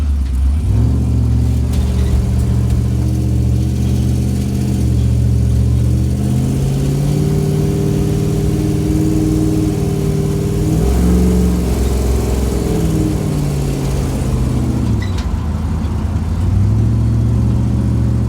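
A freshly built car engine runs after its first start-up, idling with a steady low drone and rising into several light revs, loud and close, with no voices.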